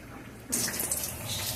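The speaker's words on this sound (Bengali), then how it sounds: "তেল গরম হয়ে গেছে আমার, এবার কটা জিরে দিয়ে দিয়েছি।" Cumin seeds dropped into hot oil in a pan for a vegetarian aloo dum, a sudden bright sizzle that bursts in and keeps crackling steadily, close by with no voices.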